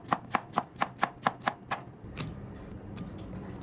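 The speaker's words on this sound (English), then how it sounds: "Peeled cucumber and sliced, then set aside." A knife slices through a peeled cucumber on a cutting board with eight crisp, evenly spaced chops, then one sharper cut and a few faint taps, close and clear with no talk.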